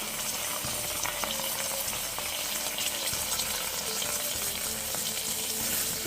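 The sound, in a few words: stir-frying beef in a pan for panang curry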